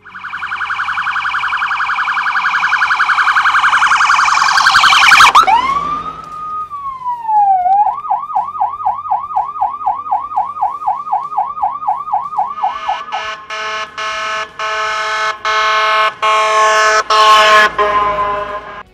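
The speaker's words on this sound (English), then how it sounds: "yelp, and electronic air horn modes of the siren" A loud emergency vehicle siren wails, then switches to a rapid warbling yelp, followed by a series of blaring electronic air horn blasts in short bursts.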